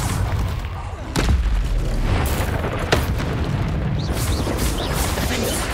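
A Confringo blast spell goes off in the Hogwarts Legacy video game during a fight with a troll, giving a loud booming explosion followed by rumbling combat noise, with a character shouting over it.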